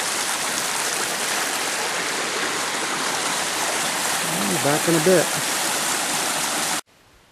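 Creek flowing through a pine forest with a pine-needle forest floor, a steady close rushing of water that fills the whole clip, with a brief spoken voice over it near the end.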